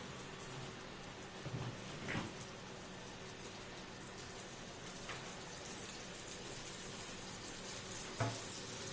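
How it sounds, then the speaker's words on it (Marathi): Butter melting and frying in a kadai, a soft continuous sizzle with a fine crackling texture, steady and fairly faint, with a few light clinks along the way. "प्रथम कढईमध्ये आपण बटर टाकून घेतो आहे"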